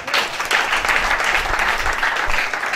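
A church congregation claps loudly and continuously, a dense close wash of applause holding steady throughout with no voices standing out.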